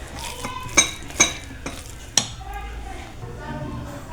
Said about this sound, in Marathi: आता हे चांगलं छान मिक्स करून घेऊ